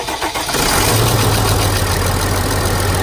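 A 2007–2013 Sprinter van engine catching after the starter turns over, then settling into a loud, steady idle with a low, even rumble close to the microphone.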